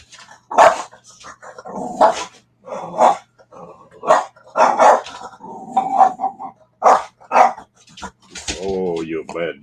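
A dog barks and growls in repeated short bursts, loud and close, with yips in between, while a person talks to it in a home.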